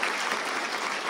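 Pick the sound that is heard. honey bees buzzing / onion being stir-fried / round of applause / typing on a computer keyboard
round of applause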